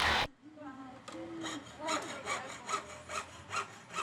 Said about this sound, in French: C'est la découpe des lettres à la scie